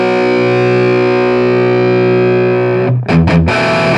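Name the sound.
Diezel VH Micro Mini amp high gain distortion guitar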